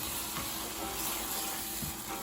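Spices for an egg kurma gravy sizzle and fry steadily in a pan, a continuous close hiss with faint stirring scrapes and no talk.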